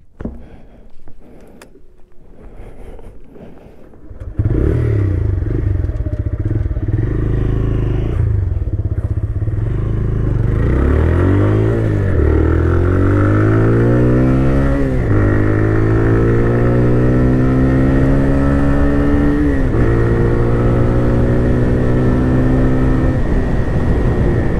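A TVS Raider 125 motorcycle with disc brakes accelerates to about 80 km/h during a brake test: a short quiet start, then a loud, steady engine drone with rising pitch sweeps as it climbs through the gears, plus wind rush close to the rider.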